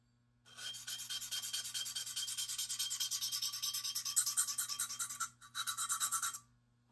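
A GEC 94 pocketknife blade drawn across a sharpening stone in steady repeated strokes, a close, even rasping scrape with a short pause before the final passes, no talking.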